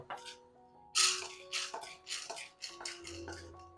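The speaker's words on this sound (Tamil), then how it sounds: "கடலைப்பருப்பு வறுபட்டுருது." Chana dal roasting in a pan, heard as short, bright rattles and scrapes as the lentils are stirred and tossed. The bursts are irregular and come close together.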